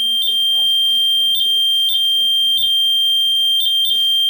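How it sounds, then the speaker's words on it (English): Overnight in a reputedly haunted house, a smoke-alarm-like electronic device gives short, high, piercing beeps at irregular intervals, several in a row. Low voices murmur underneath. "Now it's just still Like beeping."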